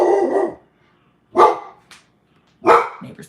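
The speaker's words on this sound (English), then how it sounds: "neighbor's dogs are barking." Three loud, separate dog barks sound nearby with pauses between them, plus a faint short yip in one gap.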